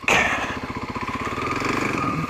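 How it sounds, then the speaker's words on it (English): A Kawasaki KLX250SF dual-sport motorcycle idling close by as it is parked, a steady loud thumping single-cylinder putter with slight rhythmic wavering and no talking. "Going to park the bike."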